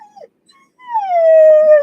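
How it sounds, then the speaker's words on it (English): A dog lets out a short whimpering note, goes quiet, then gives a single long, clear, mournful howl that slowly falls in pitch, heard close and alone. "Sorry about the dog."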